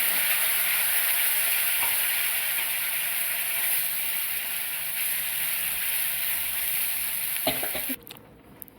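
Urad dal and asafoetida fry in hot oil for a homemade chutney, giving a steady, close sizzle with a few faint clicks that cuts off abruptly near the end.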